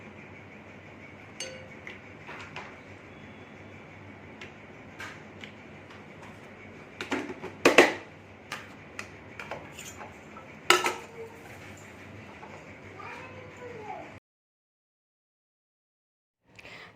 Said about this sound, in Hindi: पहले अपने बर्तन वगैरह साफ़ कर लेती हूँ।